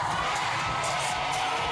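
A dense concert crowd at a world tour show cheers and screams in a loud, continuous wash of voices, with high shouts rising above the roar.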